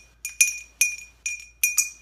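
A small spoon clinks sharply against a tea glass about six times in quick uneven taps, bright and close, with nothing else around it.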